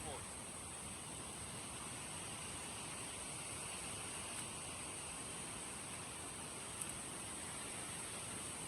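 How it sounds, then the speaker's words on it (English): A waterfall in Kirinyaga rushes down in a continuous, even wash of water noise, fairly faint and steady from start to finish. "This is a very, very beautiful waterfall, and it's unique in how the water rushes"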